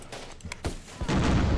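Gunfire from the video game Syrian Warfare, set at Deir ez-Zor: a brief burst of scattered shots builds into a loud, dense volley near the end, with a thump partway through.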